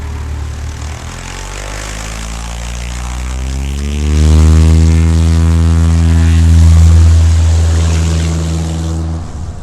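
A small propeller airplane takes off, its engine droning loud and close, swelling to full power midway with a rising buzzy pitch, then holding strong and steady.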